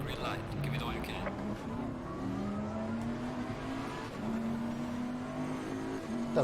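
In the racing game Assetto Corsa Competizione, a GT3 race car engine revs and climbs through gears with rising whines, heard at moderate level under a voice talking over it.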